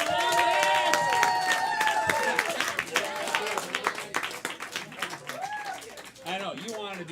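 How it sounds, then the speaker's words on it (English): Improv comedy show audience clapping and cheering, the applause loud at first then thinning into scattered claps while performers talk over it. "Applause for Jeff."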